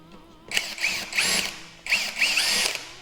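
A cordless impact hammer drill drives a screw in two loud, whirring bursts with a rising pitch and a rattling impact texture, heard close up with no voices.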